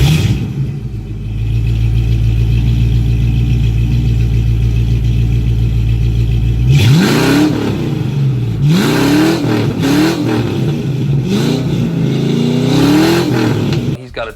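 A modified Ford 302 V8 bored to 306, with Trick Flow intake, GT40 heads and a B303 cam, idles with a loud, lumpy rumble, then is revved hard several times in quick, rising bursts close by.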